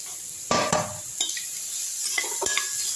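Grated beetroot is tipped into a frying pan of sautéed onions, giving a few sharp scrapes and clatters of utensil on pan over a steady, close sizzle.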